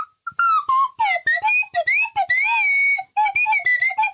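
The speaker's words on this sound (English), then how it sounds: "I wonder if I can play the slide whistle like a trombone." A slide whistle played like a trombone, sliding up and down in a run of short, separated toots and swoops, loud and close with no talk.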